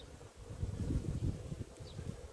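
Honeybees hum softly around a nucleus hive, a faint low buzzing drone with light wind rustle.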